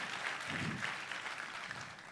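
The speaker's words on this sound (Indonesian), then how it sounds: "Tepuk tangannya boleh lebih dahsyat lagi buat Yesus Tuhan kita" A church congregation claps together during a sermon's worship moment, a dense, even patter of hands that sounds faint and distant.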